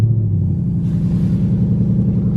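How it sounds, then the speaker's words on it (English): A 450bhp Ford Mustang V8 idles with a deep, steady low rumble right after starting, close and continuous, with a slight swell partway through. "jumping back in the Mustang, first thing to do, start it."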